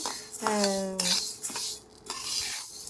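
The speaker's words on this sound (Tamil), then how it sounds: "இதை நல்லா வானலியில் போட்டு வறுத்துக்கலாம்" Black urad dal is roasted in a pan, with a spoon scraping and stirring against the metal in quick rough strokes and a light crackle from the dry lentils, close and fairly loud.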